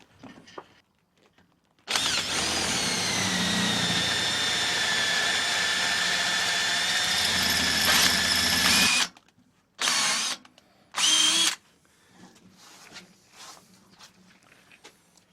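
A power drill with a 9mm bit whines loudly for about seven seconds, its pitch shifting under load, then two short bursts follow amid quiet handling noises.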